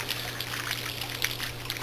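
Water trickling and dribbling steadily to make fake rain for a puppet scene, a close, continuous pouring patter with small splashy bursts and no talk.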